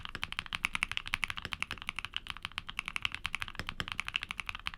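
Typing on a mechanical keyboard with Keygeek Soda switches, a fast, close, continuous patter of crisp keystrokes with occasional heavier bottom-out clacks and no voices.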